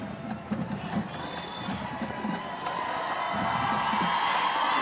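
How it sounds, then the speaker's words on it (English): A Thanksgiving parade crowd cheers and whoops outdoors, the noise building from scattered shouts into a louder, sustained roar. "The crowd goes wild."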